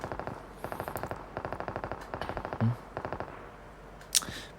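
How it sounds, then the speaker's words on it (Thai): Rapid bursts of automatic gunfire in a video game rattle in several volleys, moderately distant, with a louder single shot toward the end. "มีเสียงปืนนะครับ"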